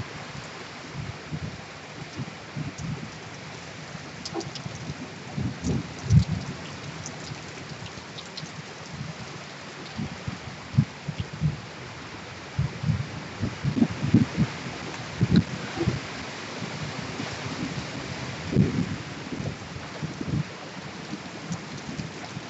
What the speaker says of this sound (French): c'est la grande tempête.